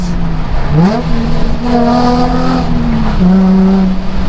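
A Nissan 350Z fitted with sports cats revs hard, its loud exhaust rising and falling in pitch through several throttle blips and held notes, very close and dominant.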